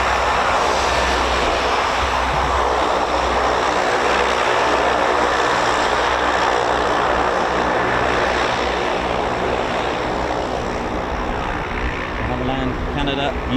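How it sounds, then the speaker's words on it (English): A Canadian aircraft arriving at the RAF Fairford air tattoo, a loud, steady engine drone held throughout, with people talking faintly in the background. "Canada, beautiful aircraft."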